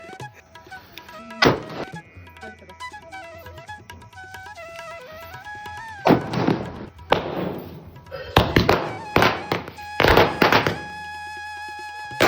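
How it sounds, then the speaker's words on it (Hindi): Several sharp firecracker bangs burst out in irregular clusters during Diwali, some single and some rapid, loud against a background of music. "और आरती करने के बाद हम फिर पटाखा फोड़ना शुरू कर देते हैं।"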